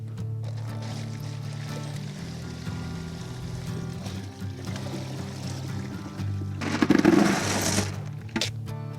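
Water pours into a plastic ice globe mold weighted with a rock-filled bucket: a steady low gushing flow that swells into a brief louder splashing burst near the end, with no voices.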